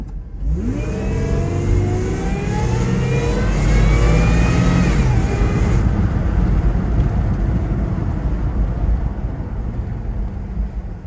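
A Toyota 3.4-litre TRD supercharged engine fitted with an extra seventh injector revs and accelerates hard, rising in pitch for several seconds and then settling into a loud, steady drone heard up close.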